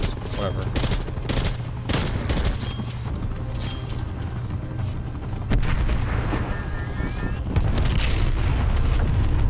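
A cruise missile detonates in Call of Duty Cold War amid ongoing gunfire, a loud booming blast with rolling low rumble layered over steady rapid shots and game sounds.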